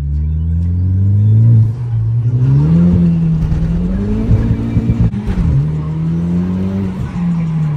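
A Honda Civic Type R (FK8) sports car's aftermarket exhaust drones loudly as the engine revs up and down repeatedly, close by and continuous.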